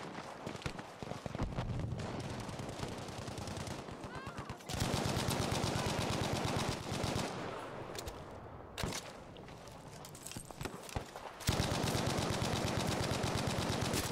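Bursts of automatic fire from a Bren light machine gun in Battlefield V's Rush mode, dense rapid rattling that runs for several seconds, pauses briefly, then resumes loud and close, with game effects in the background.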